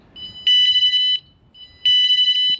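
Two bursts of shrill electronic beeping from a van alarm system during sensitivity setup, each a rapid run of close high-pitched pulses, loud and near with a short pause between them.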